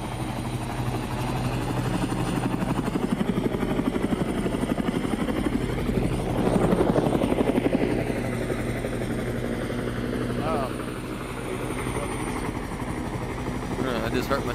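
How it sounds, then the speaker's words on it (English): Steady, loud thudding of a helicopter's rotor overhead, continuous throughout and swelling slightly midway. "Every time I look at the helicopters over here,"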